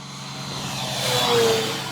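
FMS P-51D Mustang Red Tail V8 RC model plane, 1450mm, with its electric power system opened up to full throttle, a steady loud whine that swells and peaks near the middle before easing slightly.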